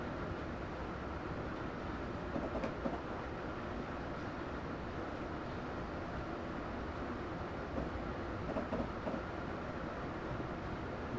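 A train rolls along the rails in Train Simulator 2017, a steady, moderately quiet rumble with faint rhythmic clicks and a few brief metallic knocks over the running noise.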